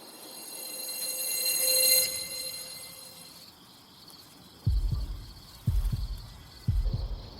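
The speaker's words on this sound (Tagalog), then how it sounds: "Tuwing magkasama tayo, laging bumibilis ang tibok ng puso ko." Three slow, evenly spaced heartbeat thumps as a sound effect, low and fairly loud, entering after a high electronic tone fades, with no talk.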